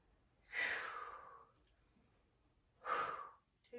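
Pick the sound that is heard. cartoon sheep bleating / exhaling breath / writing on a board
exhaling breath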